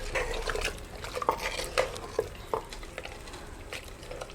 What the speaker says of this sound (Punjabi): ਹੁਣ ਆਪਾਂ ਚਿਕਨ ਮਸਾਲਾ ਪਾਵਾਂਗੇ ਇਹ ਪਾ ਕੇ ਰਲਾ ਦੇਾਂਗੇ